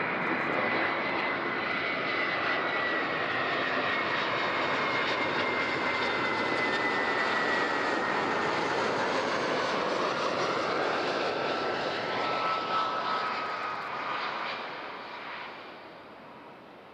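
An airliner landing on runway 14 at Zurich airport roars past in a loud, sustained engine rush with a shifting whine, fading noticeably toward the end.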